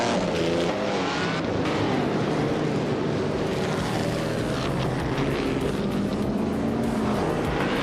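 A 1950 Ferrari 375 F1 racing engine in a racing video game, roaring loudly and continuously with a rising, shifting whine, like a car speeding past at full throttle.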